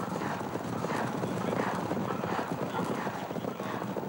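Horses galloping in a 1997 steeplechase race, a steady mass of hoofbeats and wind-like rushing under continuous race commentary.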